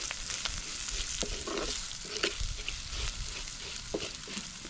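Pounded spices frying in a pan for vathakuzhambu, a steady close sizzle broken by light scrapes and stirring strokes throughout.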